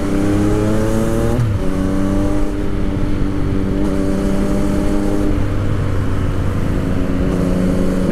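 Yamaha MT-09 2015 naked motorcycle engine revving loudly and steadily up close, its harmonic drone climbing and dipping through several throttle blips across the whole stretch.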